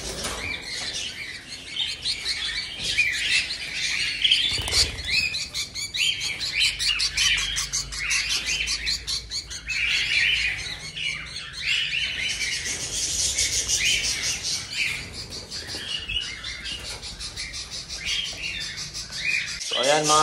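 Dense chorus of small caged aviary birds chirping and tweeting constantly, with wing flutters and rubbing sounds as they are caught and handled, close and busy throughout.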